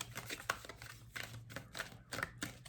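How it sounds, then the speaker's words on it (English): Tarot cards shuffled by hand up close, a series of brisk riffling bursts and soft slaps spaced irregularly over a quiet room background, no voices present. "I'm just doing a little bit of shuffling on camera"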